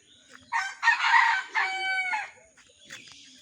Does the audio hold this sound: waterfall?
no